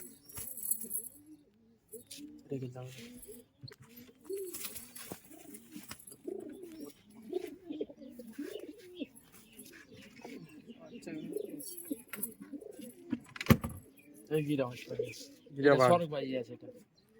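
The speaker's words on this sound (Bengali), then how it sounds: "এগুলো বিডিং পায়রা" Breeding pigeons coo in soft, repeated throaty phrases nearby at a pigeon sale, with occasional chirps and bursts of people talking in the background.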